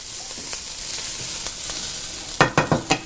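Ingredients sauté in a pan with a steady soft sizzle, followed near the end by a quick run of four sharp spoon knocks against the pan.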